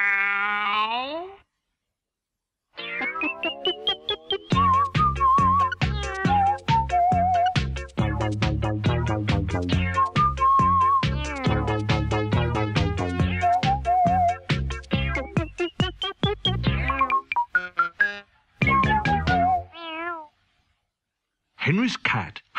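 A voice imitates a cat's meow in a long, expressive sequence of wavering, pitched cries. Some are sustained and some choppy, with brief pauses between phrases, loud and close.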